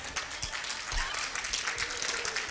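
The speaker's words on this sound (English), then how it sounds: "you go ahead and clap for him" A church congregation at an Easter morning service applauds the preacher, steady dense clapping filling the room throughout, loud and continuous with no pause.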